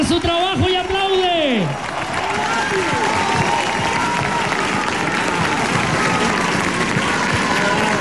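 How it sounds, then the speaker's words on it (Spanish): Press and audience at a televised final break into sustained, loud applause mixed with cheering, and a voice calls out over the clapping near the start. "La prensa deja de hacer su trabajo y aplaude."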